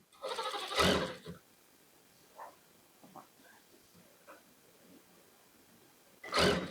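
A sewing machine stitching along the edge of a cord set kurti runs in two short bursts, one at the start and one at the end, with a quiet stretch of faint handling noises between.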